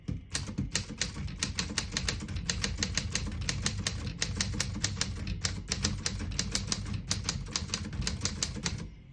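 Rapid clacking of typewriter keys on a 1946 Smith-Corona Sterling portable manual typewriter strikes in a fast, steady rhythm, close and crisp, without any voices.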